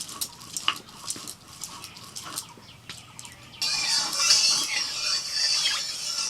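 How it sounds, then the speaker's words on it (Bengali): Mustard oil poured into a wok over a wood-fired clay stove, first light clinks and taps, then a sudden steady hiss and sizzle rising and holding to the end. "কড়াইতে দিয়ে দিচ্ছি সর্ষের তেল।"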